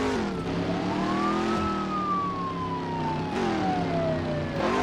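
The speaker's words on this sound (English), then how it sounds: "There's the ambulance." Ambulance siren in the Midnight Club 3 DUB Edition Remix racing game, a loud wailing tone sweeping up and down in slow cycles over a constant car engine drone, close and continuous.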